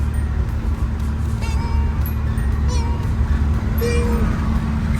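A Nissan Gloria cruising at about 110 to 120 km/h on a Texas road gives a steady low road and engine drone throughout, with faint higher squeaks and tones over the rumble.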